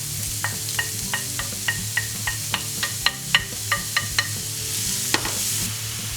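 Onion added to a frying pan of hot oil with ginger and garlic, sizzling steadily up close while a utensil taps and scrapes against the pan in a loose, regular rhythm, with no voices.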